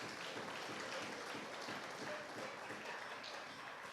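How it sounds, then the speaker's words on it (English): An audience at an awards dinner applauds in a steady, dense wash of clapping that stays even and fairly faint throughout, with no voices over it. "Give him a big round of applause for that."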